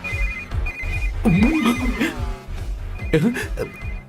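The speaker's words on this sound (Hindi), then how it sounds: "इस वक्त दीदी का फोन।" A phone rings in a dubbed Indian film scene with a repeating electronic ringtone of short high beeping bursts, heard under voices and background music.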